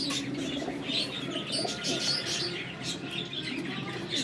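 Flying pigeons of a hardy breed kept for summer flights coo softly amid a busy, steady background of chirps and bird noise, continuous throughout with no voices.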